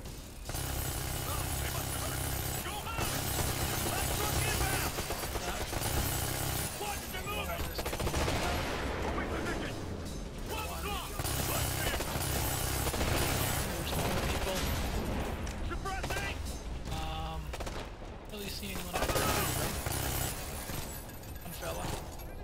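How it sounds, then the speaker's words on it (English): Machine gun fire in the video game Ghost Recon Future Soldier, dense and continuous bursts running throughout amid loud battle noise and layered game audio, with voices mixed in. "Machine gun."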